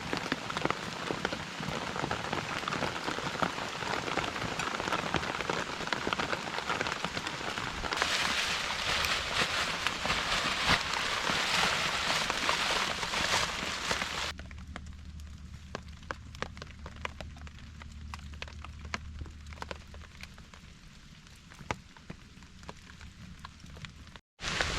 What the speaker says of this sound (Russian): А еще дождь начинает идти, и сразу костер тухнет.